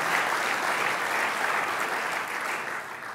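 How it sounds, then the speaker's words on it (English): A large conference audience at a keynote for a three-day event applauds in a dense, steady wash of clapping that holds evenly loud throughout and eases slightly at the end. "So I think a round of applause for those, as well as for Cynthia."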